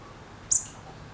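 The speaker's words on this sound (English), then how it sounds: "The sounds of the birds" A single short, high bird chirp rings out outdoors, brief and moderately clear against a quiet, steady background hush.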